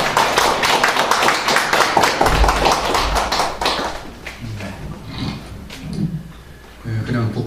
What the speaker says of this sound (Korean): 우리 박수로 영광 돌리겠습니다.